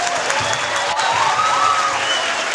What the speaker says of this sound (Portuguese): Eu peço uma salva de palmas para todos vocês